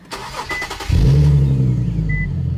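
An Infiniti Q50 with an SCS custom exhaust system fires up after a brief starter crank, then settles into a deep, loud, steady rumble close by.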